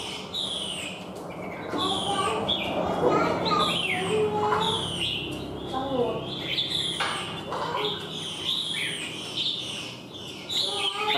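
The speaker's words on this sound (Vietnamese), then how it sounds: "nuôi hộp tập trung này mà nó dám hot là con chim nó rất là bản lĩnh đấy các bạn" Chinese hwamei songbirds kept in boxed cages singing in bright repeated whistles and chirps, close and lively, with other birds and voices mixed into the background.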